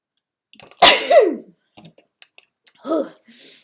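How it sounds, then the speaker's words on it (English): A single sharp sneeze bursts out close by, followed by a few small clicks and a soft breathy sound. "I did a little sneeze."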